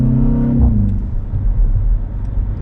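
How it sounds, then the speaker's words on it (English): A BMW X1's exhaust rumbles low and loud as the engine eases off, the revs dropping into a steady deep drone with faint crackles, heard close up with no talking. "Exhaust has got some pops to it."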